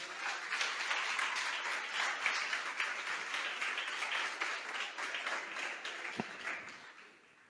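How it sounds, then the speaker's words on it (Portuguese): A church congregation claps together in sustained, dense applause during a worship service, loud and steady before tapering off at the end. "Você pode aplaudir ao Senhor."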